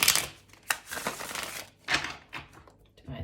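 Tarot cards riffled and shuffled in a few quick bursts, a crisp papery crackle close up with short pauses between passes and no talking.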